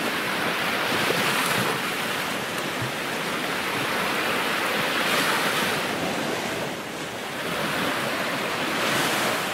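Sea waves surging and washing onto a beach, a steady broadband roar with slow swells and wind buffeting the microphone, continuous and fairly loud, with no voices.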